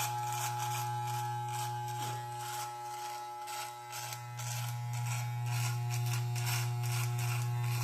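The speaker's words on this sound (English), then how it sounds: "while we have the trimmers out, I'm going to go ahead and take off the attachment, and I'm just going to cut out an outline" An electric beard trimmer with its guard attachment removed buzzes steadily close up while it cuts a beard outline, holding a constant drone with faint clipping textures and no talking.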